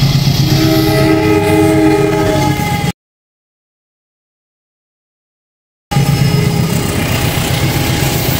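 A train pulls out of Ngunut station in Indonesia, sounding a long, loud horn with rich harmonic tones, followed after a gap by a steady rolling rumble of the moving cars.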